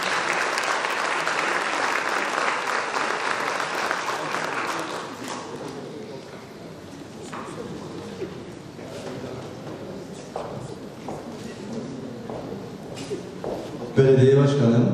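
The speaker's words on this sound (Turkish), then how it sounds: "Sponsoru Gazi Mağusa Belediyesi Başkanı Salim İsmail Erter'i alkışlarınızla sahneye davet ediyorum." Gala-night audience applauding as a municipal mayor and sponsor is called to the stage at an album launch, a loud sustained clapping that thins out and continues more sparsely, with a sudden louder burst near the end.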